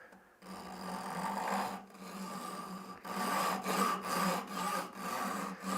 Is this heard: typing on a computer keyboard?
no